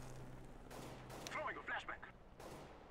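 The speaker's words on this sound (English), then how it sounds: "I can shoot too" Gunfire in Counter-Strike: Global Offensive, a few quick sharp shots in the distance, faint and mixed under the low game ambience with a brief burst of rapid reports in the middle.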